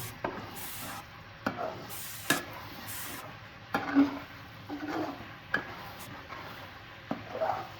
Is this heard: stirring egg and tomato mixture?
yes